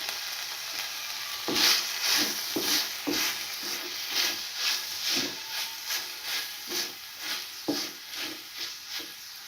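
Finely chopped onions frying with chicken in a pan for a chicken kachori filling, a steady close sizzle with rhythmic scraping stir strokes throughout.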